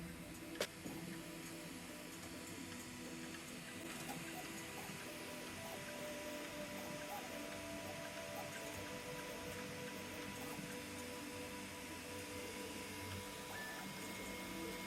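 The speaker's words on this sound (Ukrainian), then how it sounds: "Працює він, якщо чесно, дуже шумно." A 3D printer prints a cat-shaped headphone holder indoors, its motors whirring and humming faintly and continuously with small ticks.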